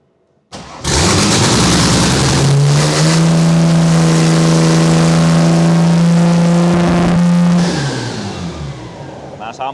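A drift car's engine cranks and catches, then revs hard and holds at high rpm for several seconds before it is shut off. The sound is loud and close, and it may have an intake leak.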